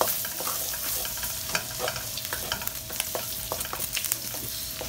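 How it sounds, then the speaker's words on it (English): Garlic frying in melted butter for carbonara, a steady close sizzle with faint crackles and light stirring scrapes throughout, no voices. "So once the butter is melted, you put in your garlic."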